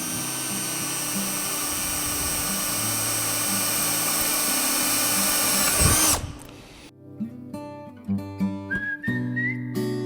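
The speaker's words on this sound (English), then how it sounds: "So I'm going to drill each hole now" Power drill boring holes through wood clamped in a vise, a loud continuous whine for about six seconds that cuts off, followed by short bursts of drill revving and winding down.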